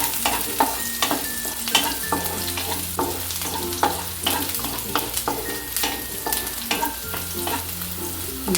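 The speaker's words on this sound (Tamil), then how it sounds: "நல்லா வதங்கட்டுங்க." Green chilies sautéing and being stirred in a pan for masala macaroni, with a steady close sizzle and repeated sharp scrapes of a spatula throughout, no talking.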